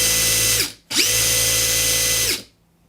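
A Makita 001G high-torque cordless impact driver spinning free at 3,700 RPM gives two loud, close, steady whining bursts of motor and gear noise, a short one then a longer one, each ending as it spins down.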